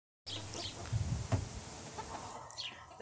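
Hens cluck and murmur softly nearby in a quiet outdoor setting, with a few brief higher calls scattered through.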